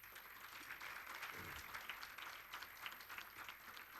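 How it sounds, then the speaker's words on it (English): Applause from a conference audience during a scientific session: a faint, steady patter of many hands clapping for about four seconds, heard at a distance. "A big round of applause to him."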